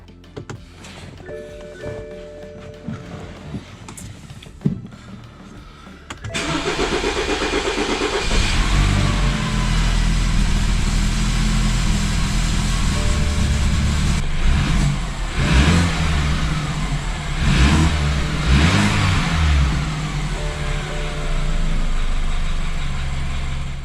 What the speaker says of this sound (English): Okay, so the car runs good now.